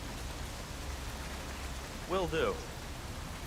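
Rain falls steadily in a video game scene as an even hiss of drops under a moderate wash of noise. Someone speaks a brief line partway through.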